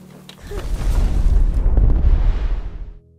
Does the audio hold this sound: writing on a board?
no